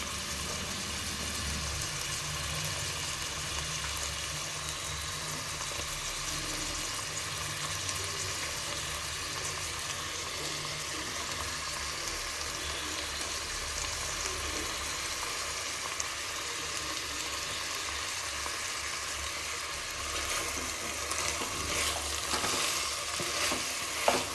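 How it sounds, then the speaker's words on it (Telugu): Mixed vegetables for paneer veg pulao fry and get stirred in a pan, a constant broad sizzle with soft irregular scraping, fairly quiet and steady throughout without talk. "వెజిటేబుల్స్ అన్నీ మంచిగా మిక్స్ చేసుకొని కాసేపు మూత పెట్టి మగ్గించుకోవాలి"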